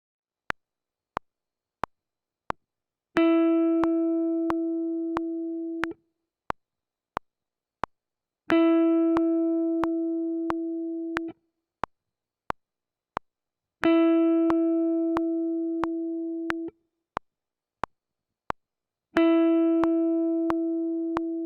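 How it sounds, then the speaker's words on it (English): Sustained guitar notes are bent and held in four repeated phrases, each preceded by sharp metronome-like clicks counting in, with no voices. "pull the string until both sound in unison"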